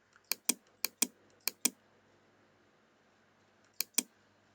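Fingers type a web address on a computer keyboard: a quick run of six sharp, close keystroke clicks, a quiet pause, then two more clicks near the end, with no talking.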